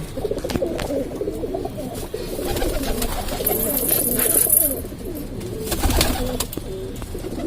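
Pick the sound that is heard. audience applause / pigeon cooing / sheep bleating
pigeon cooing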